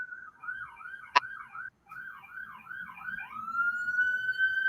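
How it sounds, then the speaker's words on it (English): An emergency vehicle siren wails in repeated rising and falling cycles, fairly loud and close, then shifts into a long steady tone, with a short sharp click partway through and no speech. "I think we've lost you for an exciting siren."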